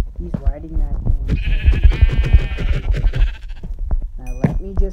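Sheep bleating in Minecraft, a couple of wavering, rather high bleats over game sounds and someone talking throughout.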